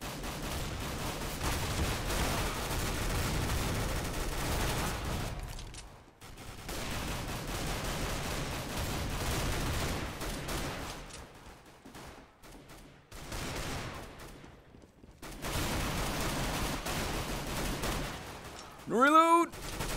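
Bursts of gunfire in CS:GO, rattling volleys that stop and start in several stretches with brief silences between, mixed with a voice talking over the shooting.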